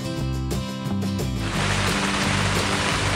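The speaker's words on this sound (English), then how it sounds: "When the water falls from the sky and the earth gets wet, it's a rainy day." Cartoon-style rain effect: a steady, dense hiss of falling rain swells in partway through and continues over light musical tones, with no voices.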